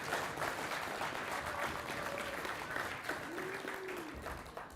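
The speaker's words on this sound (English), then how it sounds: "So give yourselves a round of applause." Quiet, continuous applause from a university computing and AI conference audience, a soft wash of clapping heard from a distance, with faint tonal sounds briefly audible under it.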